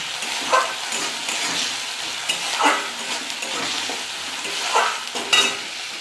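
Fried onion with ginger, garlic and whole cumin paste sizzles and is stirred in a pan while an egg curry is cooked, giving a soft continuous hiss with a few brief scraping stirs.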